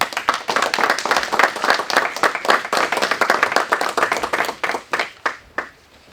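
A crowd at the inauguration of a campaign office in Savigny gives loud, close applause for candidate David Fabre. The clapping is dense and then tapers into a few scattered final claps.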